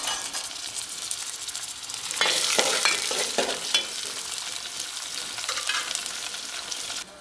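Steady, close sizzling of chicken liver frying in a hot pan until golden, with brief louder crackles and stirring sounds partway through.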